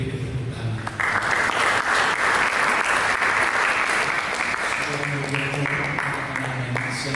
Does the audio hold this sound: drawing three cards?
no